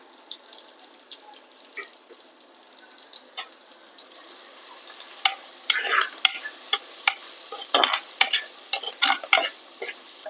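Onions, fenugreek and curry leaves frying in hot oil for a village-style fish kulambu, a steady sizzle broken by repeated scraping stirs that grow busier and louder toward the end, with no voices.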